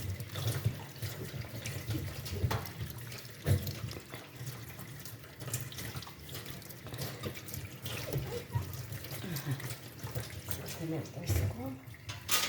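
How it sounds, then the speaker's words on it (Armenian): Tap water runs steadily into a sink as a watermelon is washed by hand for pickling, with splashes and shifting flow over the constant rush; a person speaks over it. "Լավ լվանալ։"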